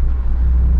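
A tuned Lada Niva with an Akrapovic exhaust rumbles at a deep, steady idle, close and loud, with no talk.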